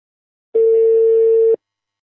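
A single steady electronic telephone ringback tone sounds for about one second, clean and loud, then stops, with silence before and after.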